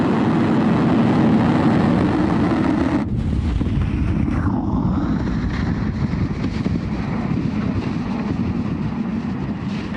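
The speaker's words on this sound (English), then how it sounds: "Ignition, engines full power, and liftoff." A SpaceX Falcon rocket lifts off with its engines at full power, a loud, steady, broadband roar with a wind-buffeted rumble that carries on unbroken throughout.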